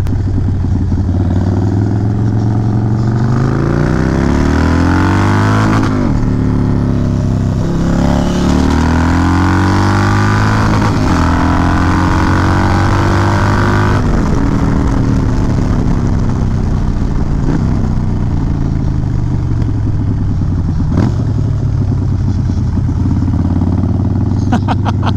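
A Harley-Davidson Dyna motorcycle and a Nissan Skyline race on the street, engines loud and close, revving hard through repeated rising gear pulls with shifts between them, with voices faint underneath.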